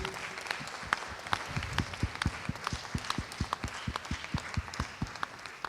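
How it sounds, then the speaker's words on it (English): Seminar audience at a leadership summit applauding a speaker, sharp individual claps rising out of a broader patter, moderately loud and steady before thinning toward the end. "Another round of applause for Mr."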